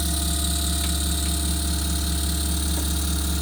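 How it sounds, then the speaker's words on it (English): Clevedon Steam Libra twin cylinder steam engine running smoothly, a steady even mechanical hum with a regular low pulsing beat throughout, close and constant with no voices. "it seems to run lovely, nice and smooth"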